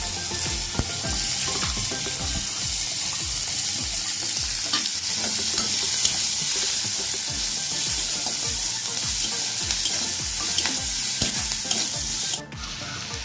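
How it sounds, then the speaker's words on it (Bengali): Chopped onions fry in hot oil with nigella seeds and a piece of dried chilli, giving a loud, steady sizzle with repeated stirring scrapes throughout and no talking. "ওই তেলে একটু কালো জিরে, 1 টুকরো শুকনো লঙ্কা, পেঁয়াজ কুচানো,"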